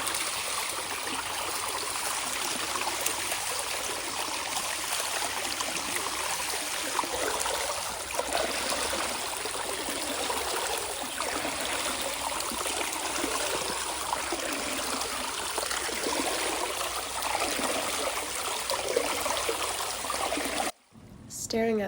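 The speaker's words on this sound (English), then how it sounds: "there was this beautiful water feature that I want you to pay attention to" Steady flowing water from a fountain at the Goetheanum, a continuous trickling rush that stays even throughout, fairly close, with a brief drop near the end.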